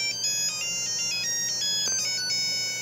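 Electronic beeps and short bleeping melodic tones from a Tiger Electronics Mighty Morphin' Power Rangers 'Where Are You Alpha 5?' handheld game, heard as a quick string of bright chirps over a faint low hum.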